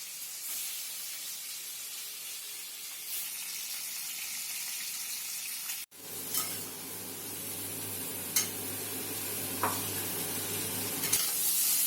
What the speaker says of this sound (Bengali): আমি এবার ফুলকপি আর আলুটা ভেজে নিচ্ছি